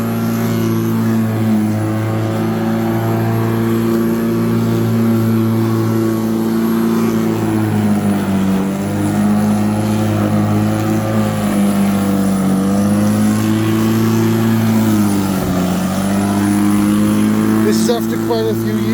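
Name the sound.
Black and Decker 1800W electric lawnmower running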